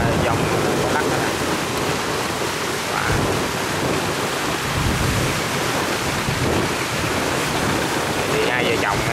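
Storm waves and heavy rain batter a high-speed passenger boat on open water, a constant dense roar of wind, surf and spray with rumbling low thumps throughout and no clear voices.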